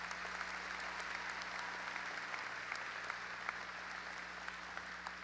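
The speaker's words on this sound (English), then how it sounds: "how about another round of applause for the extraordinary class?" A graduation audience gives the class of 2025 a steady, faint round of applause that stays even throughout, with a low electrical hum underneath and no voices.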